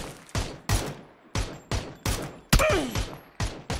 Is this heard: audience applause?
no